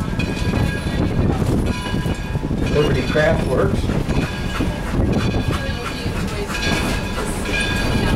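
Greenfield Village train pulling into Firestone platform, a steady rumble and rolling clatter of railcars close by, with someone speaking over the train noise throughout.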